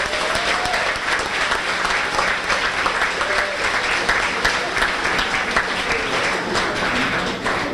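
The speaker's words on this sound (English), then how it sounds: "how about a nice round of applause for Cheryl Wolk and her kitchen staff for the wonderful meal" Audience applause at a high school spring sports banquet, a loud, even, continuous burst of clapping from a large crowd with faint voices mixed in.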